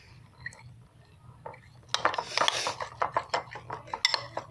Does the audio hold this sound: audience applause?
no